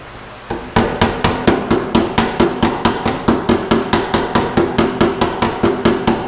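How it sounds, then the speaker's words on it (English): A hand drill bores a seven-eighths inch hole while remote hydraulics are fitted to a Kubota L3010 tractor. Close, loud, evenly spaced sharp clacks repeat about four times a second with no talk. "Seven-eighths is a lot for a hand drill."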